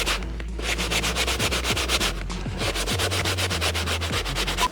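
Work gloves are scrubbed hard with a Scotch-Brite abrasive pad in rapid rhythmic back-and-forth strokes, a close, harsh rasping that stays steady throughout.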